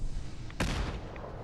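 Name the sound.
fragmentation grenade explosion in video game Fallout 4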